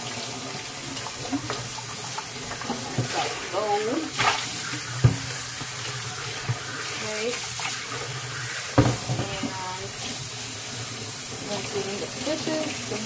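A kitchen tap runs steadily while fish is rinsed under the water, with splashing and handling noises up close and a few brief spoken words.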